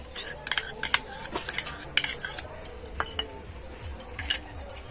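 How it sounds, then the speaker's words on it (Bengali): A whole egg is beaten hard into a dough mixture for chamcham sweets, with quick irregular metallic clinks and taps of a utensil against the bowl close by. "ডিমটাকে খুব ভালো করে ফেটিয়ে নেব"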